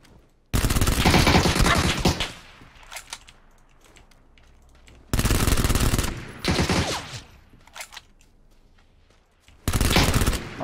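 Gunfire in PUBG: three separate bursts of loud, rapid automatic shots, each lasting a second or two, broken by quieter gaps with scattered clicks and distant shots.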